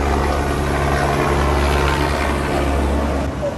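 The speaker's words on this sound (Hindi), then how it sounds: "हेलीकॉप्टर भी सामने से ही उड़ रहा है" A helicopter flies nearby at Kedarnath in the mountains, its loud, steady rotor and engine drone filling the whole stretch with a constant throbbing hum, no voices over it.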